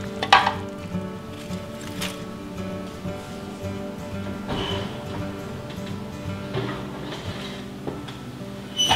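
Schnitzel frying in a pan is stirred, giving a soft, steady sizzle with scattered scrapes and light knocks from the utensil, close by, with no talking.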